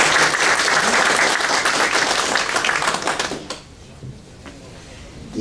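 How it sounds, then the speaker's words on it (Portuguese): Applause from an audience at a ceremony for the Revista Judiciária do Paraná, dense and steady for about three and a half seconds, then cutting off sharply into a quiet room with a few scattered claps. "para quem também pedimos uma salva de palmas"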